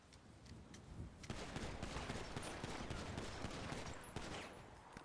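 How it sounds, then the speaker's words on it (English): Rapid gunfire at a firing range in a cop academy video game, with dense overlapping bursts of shots that swell after the first second and keep going loudly with little pause. "I heard the gunshots and thought I'd come see what was going on"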